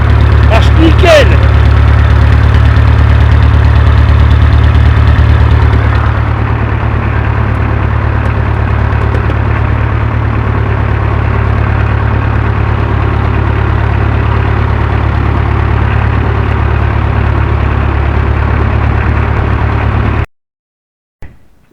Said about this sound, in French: Il fume plus mon tracteur.